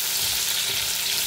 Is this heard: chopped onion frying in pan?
yes